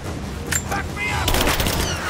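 Suppressing gunfire in the Rise of the Tomb Raider video game, a rapid burst of automatic shots following a couple of brief sharp sounds, loud and close amid combat noise.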